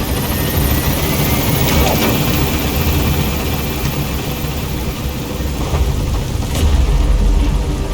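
A Pequod helicopter from Metal Gear Solid V climbs after landing-zone pickup, its rotor chop and engine roar loud, dense and steady throughout with no voices.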